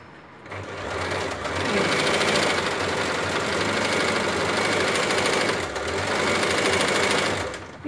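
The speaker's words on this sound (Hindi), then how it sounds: "स्ट्रेट स्टिचिंग करें" An Usha Janome sewing machine runs a straight stitch on rough cloth, a close, steady mechanical whirring and rapid needle clatter that starts, runs for several seconds, dips briefly and continues.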